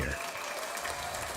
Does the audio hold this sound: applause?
yes